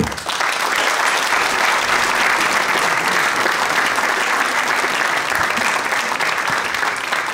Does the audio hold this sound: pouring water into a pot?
no